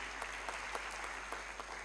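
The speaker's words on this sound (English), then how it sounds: "Please give a round of applause to these guys" An audience claps in applause at a university alumni meet's valedictory session: a steady, dense wash of many hands with a few sharper claps standing out, no voices over it.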